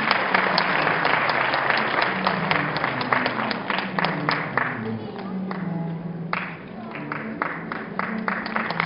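An audience at a university graduation ceremony in a hall claps steadily and warmly, with individual hand claps audible throughout, then slowly eases off.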